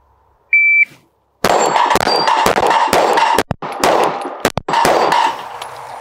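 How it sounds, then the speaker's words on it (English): Sig P365 X Macro pistol with an aluminum lower firing FMJ target rounds, preceded by a short electronic timer beep, then a fast string of sharp, close, loud shots with ringing metallic clangs between them. "I had a couple makeup shots there."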